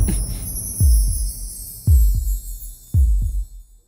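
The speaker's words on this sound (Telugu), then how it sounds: "నీకు నా హార్ట్ బీట్ తెలుస్తుందా?" A heartbeat sound effect from a Telugu TV serial gives three loud, deep lub-dub double thumps spaced about a second apart over a faint high hum, with no voices.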